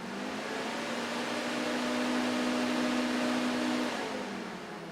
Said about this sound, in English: you could hear the fan come on in the background